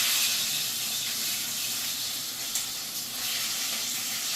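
Onions fry in hot oil with a steady, close sizzling hiss that holds for several seconds, brightening briefly midway, with no talking.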